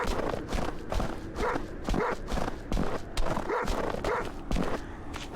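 Repeated dog barks from the video game Farmer's Father ring out in a steady series, mixed with bursts of noise and a few footstep-like thumps, with no talking.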